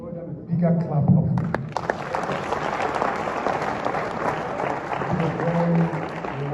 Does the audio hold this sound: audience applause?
yes